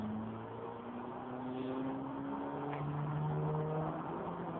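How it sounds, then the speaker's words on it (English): A 1999 Mitsubishi Lancer Evolution 6 GSR upgraded to R3 class drives in Forza Horizon, its engine a steady droning hum with shifting tonal pitch, continuous and moderately loud with no voices. "my car that I'm driving around right now is a 1999-ish, probably, Mitsubishi"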